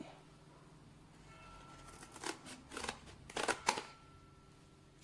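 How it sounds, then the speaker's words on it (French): Scissors snip away excess pages from old books for a DIY hedgehog craft, several quick close cuts clustered in short bursts after a quiet start, with no talk. "on va découper là tout ce qui dépasse. Hein, avec le ciseau du coup"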